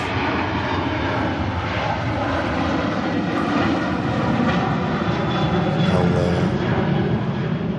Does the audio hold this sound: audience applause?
no